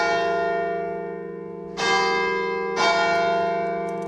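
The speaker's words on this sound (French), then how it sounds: "Je les aime, mes cloches." Church bells ringing in Argentan, France, loud and close with a sustained, humming tone, then two sharp fresh strikes about a second apart that bloom and ring on.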